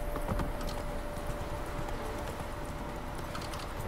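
Roach, the horse in The Witcher 3, gallops with a steady rapid clip-clop of hooves under dense game ambience, continuous and moderately loud throughout.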